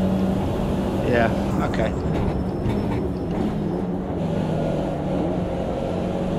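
Touring car engine in the racing sim Automobilista 2, a loud steady drone rolling in second gear, with someone briefly speaking over it.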